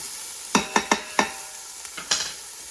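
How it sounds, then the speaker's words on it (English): A utensil stirring a little oil in an Instant Pot, four quick scraping clacks followed by a few softer strokes over a faint sizzle, close and alone. "I'm just stirring it up, okay? Let that go for a little bit."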